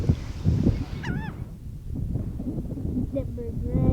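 A bird, likely a goose, honks outdoors in a brief rising call partway through, with a few fainter calls later, while wind noise and people talking run underneath.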